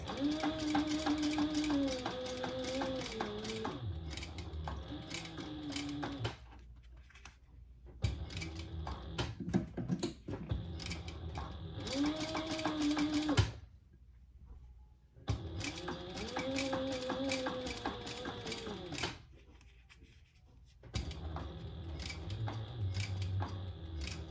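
A sewing machine runs in bursts while top-stitching a small handbag piece at a short stitch length. Each burst is a fast, even mechanical whir, broken by several brief silent pauses. The sound is close and moderately quiet, with no talk over it.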